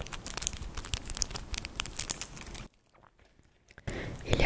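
Small plastic packaging around a little eraser is crinkled and rustled up close in a quiet ASMR setting, with busy crackling that pauses for about a second before starting again.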